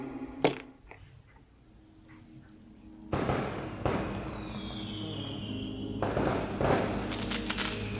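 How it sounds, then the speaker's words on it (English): Fireworks play in a music video, heard as a sharp early bang followed by sustained crackling bursts and booms with a whistling streak, fairly faint behind the track. "Bit of fireworks."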